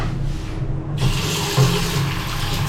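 Steady rush of water from a bathroom tap in a Karachi hotel room, near and continuous, growing brighter after a moment as the flow opens up, with no talk over it.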